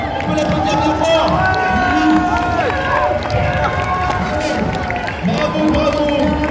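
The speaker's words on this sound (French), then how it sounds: "On peut l'applaudir bien fort." A large crowd at a Japan Touch Lyon convention event applauds the first eliminated contestant, a dense continuous roar of clapping and cheering mixed with babble and a loud hall voice over it.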